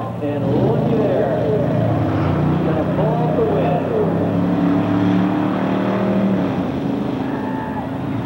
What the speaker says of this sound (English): first time shakedown for number 67 Chevelle